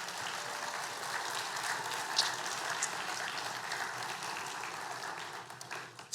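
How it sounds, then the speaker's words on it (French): A church congregation applauding the worship team after a morning service, a soft, steady wash of clapping heard from a distance that continues evenly before tapering off. "On peut leur donner une bonne main d'applaudissements."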